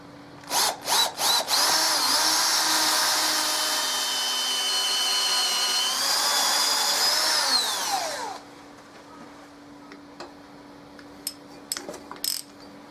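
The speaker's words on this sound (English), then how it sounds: "If this drill will do it, of course." A power drill starts with a few short bursts, then whirs steadily for several seconds under load before winding down, followed by faint clicks and taps.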